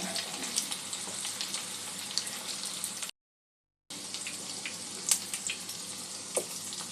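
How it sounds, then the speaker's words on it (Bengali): Chicken meatballs frying in a pan give off a steady, close sizzle with small crackles. It cuts out for a moment in the middle, then resumes just as dense. "চিকেন বলগুলো হালকা ব্রাউন করে এপিট ওপিট করে ভেজে নেব।"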